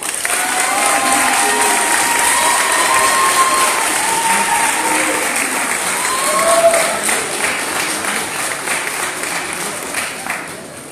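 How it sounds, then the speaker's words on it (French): Thunderous applause and cheering from a debate audience in a French student eloquence competition, dense and sustained for the whole stretch at close, loud level, with scattered voices mixed into the crowd. "le dernier tonnerre d'applaudissements au dernier membre de l'opposition, Monsieur Maxime Capron"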